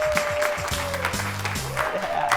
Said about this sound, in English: You have to tell yourself to clap.